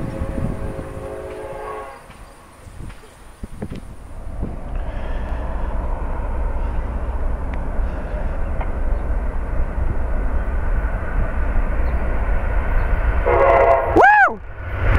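Amtrak passenger train rolling past with a steady, loud rumble of wheels and cars, ending in a close, blaring blast of its horn that bends downward in pitch.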